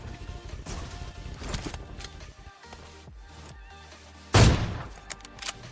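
Gunfire from an M416 rifle in a battle royale video game, a dense burst of shots followed later by one loud, sharp close report.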